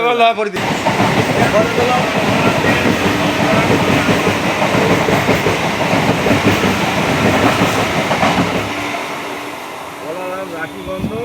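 A train rumbles loudly and steadily past a railway station, its continuous roar and rattling wheels filling the scene before easing slightly near the end, with faint voices underneath.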